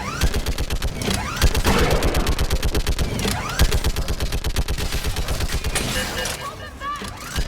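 Rapid, continuous automatic gunfire from a mounted gun in the video game Mass Effect Legendary Edition, loud and relentless for the whole stretch, with a few booming impacts and a faint voice in the background.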